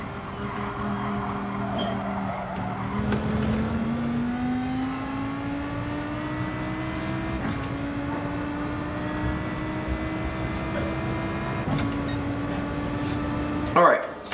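A race car laps a circuit in a racing video game. The engine drones steadily and climbs in pitch, with upshifts dropping the note every few seconds, then rising again.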